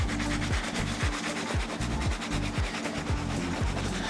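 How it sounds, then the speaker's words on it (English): A soft bristle brush scrubs the sock liner inside a worn sneaker in steady, rhythmic strokes about twice a second, close and continuous with no talk. "use a soft bristle brush, and then scrub away"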